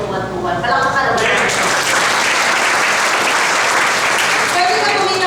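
Loud, sustained applause from a seminar audience fills the room for several seconds, with a speaker's voice briefly audible at the start and end.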